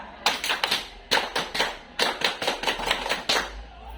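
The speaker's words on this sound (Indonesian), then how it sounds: "Setelah itu tepuk pramuka" A scout group performs a Pramuka clap, sharp rhythmic hand claps in repeated patterned bursts with short pauses between phrases, loud and close, with no talking.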